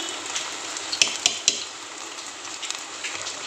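Ghee sizzles in a hot pan with a steady, soft frying hiss throughout, while a few sharp clinks from a spoon or utensil against the pan break through in the middle.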